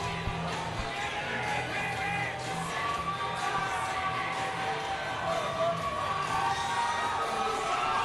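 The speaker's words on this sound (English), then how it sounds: "He bows and the crowd reacts" A large crowd at a cage fighting event roars and cheers continuously, with whoops and shouts blending into a dense, sustained wash of noise.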